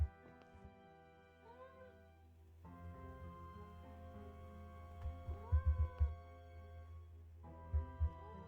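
Cat in a Nancy Drew game meowing a few times over a low droning ambient hum, the short rising-falling cries spaced out and fairly faint, with soft thuds between them.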